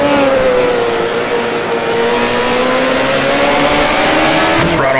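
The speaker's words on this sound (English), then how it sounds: "The throttle comes on, the engine horsepower comes on much more linearly in this car than it did in the Renault" A 1979-era Formula race car in the Grand Prix Classics game, its engine droning loud and steady as it accelerates, pitch climbing gradually under a constant close-up roar with no talk.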